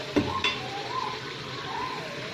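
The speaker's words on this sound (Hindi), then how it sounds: "ये हमारा चिकन जो है ऑलमोस्ट ये भून चुका है" Steady sizzling from chicken frying in a pan, with a couple of sharp clinks of a utensil against metal near the start.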